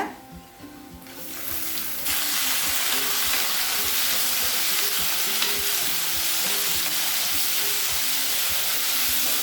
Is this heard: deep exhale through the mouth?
no